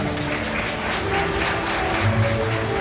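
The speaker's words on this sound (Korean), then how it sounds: "이어서 박수 부탁드리겠습니다" Wedding guests in a wedding hall clap steadily through the short stretch, a moderately loud, even applause with some faint background music or tones beneath it.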